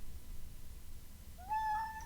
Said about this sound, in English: What's this cat doing?